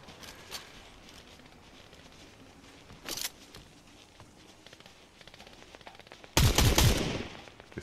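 Gunfire in the video game Fortnite: scattered distant shots, a short burst near three seconds and a loud, close rapid volley near the end over faint background game sound.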